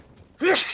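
A single short sneeze bursts out close and fairly loud after a quiet pause, rising quickly and trailing off with a breathy hiss.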